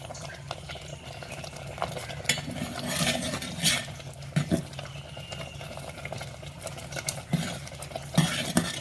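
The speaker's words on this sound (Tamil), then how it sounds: "இந்த மாதிரி கொதிச்சு வேகும்" Varagu (kodo millet) rice boiling in a pot, giving a steady bubbling simmer with occasional sharp clinks and knocks of metal, close and moderately loud with no voices.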